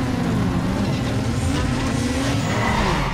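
Race cars launching from the start in NFS Underground 2, several engines roaring loudly together with rising revs and tire squeal, close and continuous throughout.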